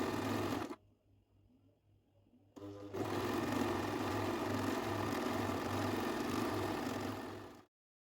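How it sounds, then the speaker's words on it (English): A sewing machine hems the lower edge of a mesh A-line dress lining. It runs in a brief burst, pauses about two seconds, then hums loud and steady with a fast stitching rhythm before stopping abruptly. "I'm going ahead to hem the lower part of our lining like so."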